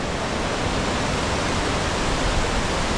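A waterfall in Oslo, Norway roars as a dense, steady wash of rushing water, loud and unbroken from start to finish, with no voices.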